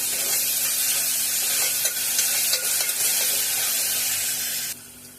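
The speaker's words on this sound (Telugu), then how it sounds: "ఇప్పుడు ఇవన్నీ రెండు బాగా వేగే వరకు వేయించుకుందాం" Chopped onions with salt and ginger-garlic paste fry in a pan for a curry, a steady close sizzle with soft stirring scrapes, cutting out near the end.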